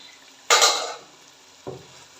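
Chicken with crushed ginger gets stirred in a pot: one loud scraping clatter of a spoon against metal, then a second, shorter scrape a moment later, with quiet pauses around them.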